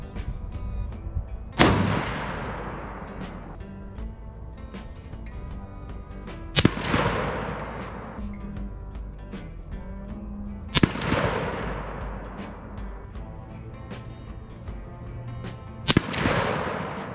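Four loud, sharp rifle shots from a Lee-Enfield No. 5 Mk1 jungle carbine in .303 British, fired outdoors at 50 yards, each crack followed by a long echoing decay, spaced roughly four to five seconds apart, with no talking.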